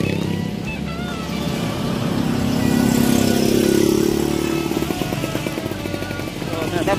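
Motorcycle engines drone and swell as they pass along a street, with the rumble building to a close peak mid-way and then easing off under steady traffic noise.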